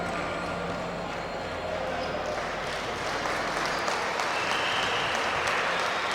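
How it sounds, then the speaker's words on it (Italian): Applause from the home crowd at a regional Serie C Silver basketball playoff final in Sestu, a dense steady wash of clapping that swells slightly toward the end, with voices mixed in. "l'applauso verso il pubblico che nel corso di tutta la stagione ha sostenuto numerosissimo il Sustentus"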